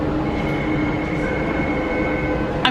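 A Walt Disney World resort-line monorail train passes with a steady rumbling roar and a thin sustained whine on top, continuous and fairly close, with a brief sharp squeal at the very end.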